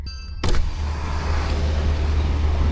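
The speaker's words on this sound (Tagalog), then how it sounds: "Mao ni siya ang naong sasakyan namo karong buntaga." A car's engine rumbles low and steady on a morning in Bohol, with a short mechanical clunk and whir of an electric window near the start. No voices.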